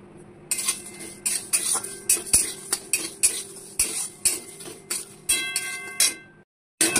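Whole coriander, cumin and other spices dry-roasting in a hot wok, with a metal spatula scraping and tossing them in steady repeated strokes, close and fairly loud, a faint crackle beneath, then a brief pause near the end.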